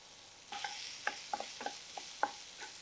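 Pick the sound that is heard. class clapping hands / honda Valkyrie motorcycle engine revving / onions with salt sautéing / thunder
onions with salt sautéing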